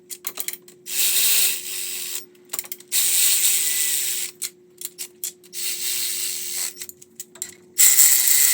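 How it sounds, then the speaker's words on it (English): Ratchet wrench clicking in rapid bursts while torquing the exhaust manifold nuts on a 2JZ engine in a Lexus GS300, close and loud, with short pauses between runs of pawl ticks. "So those 8 nuts get torqued to 32 foot-pounds."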